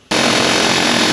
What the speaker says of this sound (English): I think the air hammer's probably doing more good than anything.